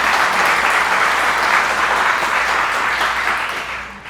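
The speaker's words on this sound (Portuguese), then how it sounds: "Dá uma salva de palmas para Jesus." A church congregation claps together in sustained, loud applause filling the room, a thick wash of hands that stays even for several seconds and tapers slightly at the end.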